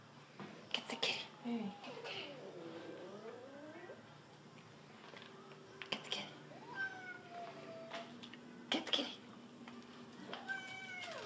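A cat meows several times, quiet and close, with soft whispering voices and scattered faint sounds around it in a quiet indoor room.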